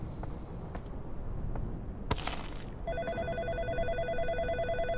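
Telephone ringing in the game In Sound Mind, an electronic warbling trill that starts after a short burst of noise and repeats steadily, fairly loud over a low ambient rumble.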